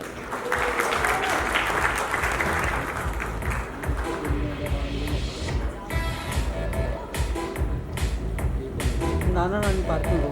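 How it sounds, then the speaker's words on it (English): An audience applauds at a celebrity awards ceremony, with dense clapping that swells and fades across the hall while a presenter's voice speaks over it. "Big round of applause, ladies and gentlemen, for Dr. Maria Zina Johnson."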